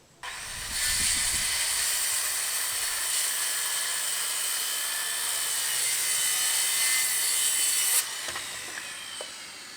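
Steady rasping of a saw trimming the tenon on a large oak barn frame, a continuous loud hiss-like cutting that runs for about seven seconds before stopping abruptly, then brief quieter knocks.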